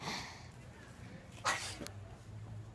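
A single short sneeze bursts out mid-moment, close and sudden, against a quiet outdoor background.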